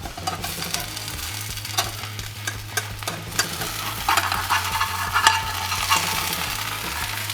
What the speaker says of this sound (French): Pour la retourner sans risque, je la décolle avec une spatule.